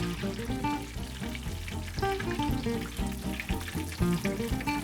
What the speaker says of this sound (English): I'm gonna fry up the rest of my pickles